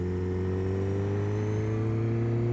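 A car engine drones steadily from inside the cabin, its pitch drifting slowly as the vehicle downshifts and brakes for a turn. The hum is continuous and loud, with no voices.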